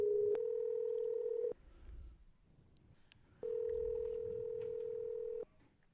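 Phone dialing tones sound in two long steady beeps with a short pause between them, loud and clean, with faint background murmur in the gap.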